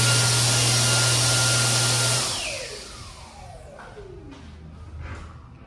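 A hand dryer in a diner restroom in Asbury Park, New Jersey, blows with a loud, steady broadband roar for about two seconds, then shuts off and winds down, leaving quieter room noise.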